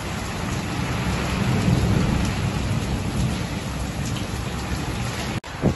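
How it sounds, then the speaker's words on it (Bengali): Heavy rain pours down in a loud, continuous roar with deep rumbling thunder underneath, sustained throughout before a sudden brief dropout near the end. "প্রচন্ড ঝড় বৃষ্টি হচ্ছে বাইরে।"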